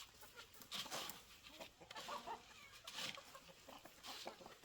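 Soft clucking from a barnyard mix hen moving about with her seven baby chicks near a pen, a few quiet, irregular calls at a distance with light background rustle.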